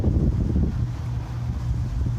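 Low rumbling wind buffets the microphone steadily throughout at a highway rest area near Billings, Montana, a constant blustery roar with no other clear sounds.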